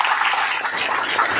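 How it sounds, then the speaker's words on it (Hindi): Audience at a Safe Shop training session in Shahdol district claps loudly in a dense, continuous burst of applause throughout. "तो एक बार जोरदार ताली बजा दीजिए सभी के लिए"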